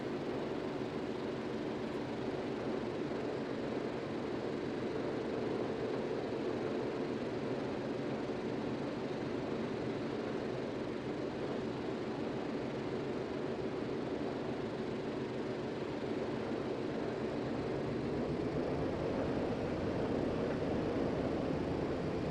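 Engines of a heavy Grumman HU-16 Albatross amphibian aircraft in the flight simulator MSFS 2024, a steady, loud, droning roar holding evenly for over twenty seconds and swelling slightly toward the end.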